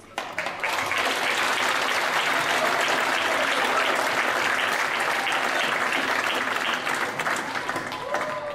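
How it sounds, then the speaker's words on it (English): Audience applause for an orchestra, a dense, loud, sustained wash of clapping from a large crowd that holds steady for several seconds before tapering slightly at the end. "let's give them one last round of applause"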